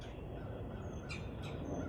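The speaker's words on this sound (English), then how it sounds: "I hear some birds squawking now." Birds squawking outdoors in Virginia during a solar eclipse, two short harsh calls about a third of a second apart over steady broadband background noise, faint and distant with no talk.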